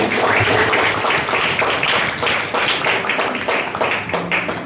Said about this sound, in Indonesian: beri tepukan yang gemuruh lagi